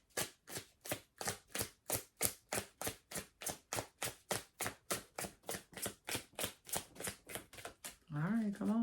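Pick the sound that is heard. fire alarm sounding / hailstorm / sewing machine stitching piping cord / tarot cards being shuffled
tarot cards being shuffled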